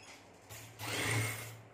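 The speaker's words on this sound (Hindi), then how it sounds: "इसको हम थोड़ा सा बाहर रख के पहले यूं सिलाई लगाएंगे" A sewing machine stitching a cord loop, a short quiet whirring run that starts, builds briefly and eases off within under two seconds.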